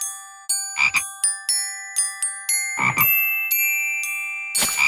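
Electronic chiming tones stack up in a steady sequence while a few synthetic frog croaks pop in between in a children's video game, loud and close with no talking.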